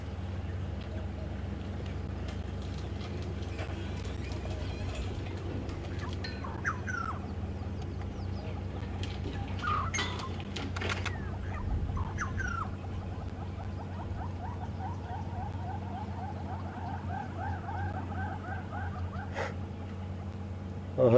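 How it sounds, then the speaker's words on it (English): Distant yellow-billed hornbill calls on a safari drive, a series of rapid clucking notes rising and repeating, faint over a steady low hum and scattered nearby clicks. "They're yellow-billed hornbills,"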